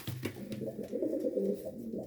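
Pigeons coo in soft, low, rolling calls, several overlapping throaty notes close by with no talking.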